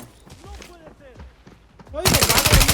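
Gunfire in the shooter game Arena Breakout: a loud rapid automatic burst erupts in the last second, after a voice talking over quieter game sounds.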